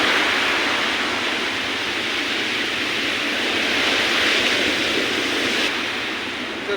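Storm-driven sea waves rush up onto the shore and over a road, a thick, steady roar of surf that swells a little midway and eases near the end.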